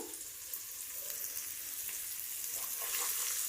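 Green chillies fry in hot oil with ginger garlic paste in a home kitchen pan, a steady, quiet crackling sizzle that holds even throughout and swells slightly toward the end, with no voices over it.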